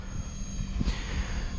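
A Blade 300X RC helicopter flying in sport mode into the wind gives a steady, close, buzzing rotor and motor whine that holds throughout with a slight swell near the middle.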